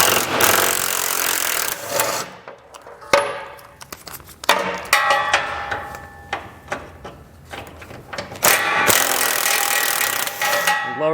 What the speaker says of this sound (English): So I'll grab my 13mm socket and pull them out.